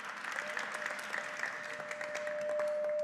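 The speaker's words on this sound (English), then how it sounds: "round of applause for IPS" An audience at a fireside chat event claps steadily for a school, dense applause that swells slightly toward the end, with a faint sustained tone running underneath.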